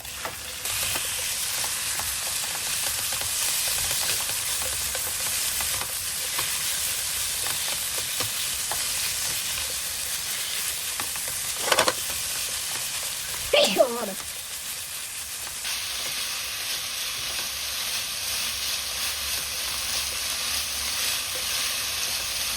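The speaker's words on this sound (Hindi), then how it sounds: "तो मीट को ना आप 1 मिनट इतना ही फ्राई करो आप ना" Minced meat for Tibetan dry pingsha (keema) fries in a pan, a steady close sizzle running throughout with a couple of brief clatters of stirring midway.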